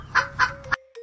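A hen gives three quick, close clucks in a short rising burst, then a faint trailing note, with no other sounds around it.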